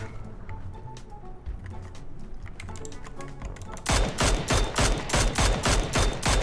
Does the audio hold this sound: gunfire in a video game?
yes